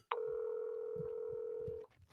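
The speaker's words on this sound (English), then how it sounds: "the phone ringing" A steady electronic telephone tone sounds loud and close, holding for nearly two seconds before cutting off, with faint low voice murmurs underneath.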